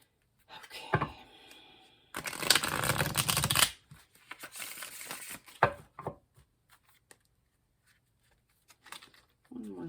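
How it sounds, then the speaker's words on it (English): A tarot deck is shuffled up close, with a long dense riffle of cards flicking together, then lighter scattered taps and slides as the cards are squared and handled, with soft speech around them. "One more shuffle"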